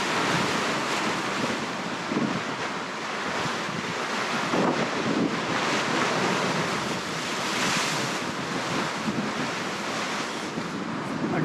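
Ocean surf rolls in at the windy coast near Hawks Nest as a continuous broad wash of breaking waves, heavily buffeted by wind noise on the microphone, with no talking.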